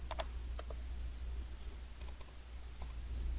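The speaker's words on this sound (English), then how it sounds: "so I'll type 16 feet" Computer keyboard keys tapped in short bursts of clicks, a few quick strokes near the start and scattered single presses later, faint over a steady low electrical hum, no talking.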